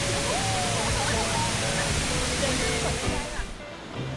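A waterfall inside a cave in Laos roars continuously, with a voice talking faintly underneath before the noise thins out at the end.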